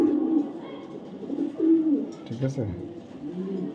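Blue pied pigeons give several low rolling coos nearby, one after another, while someone speaks briefly over them.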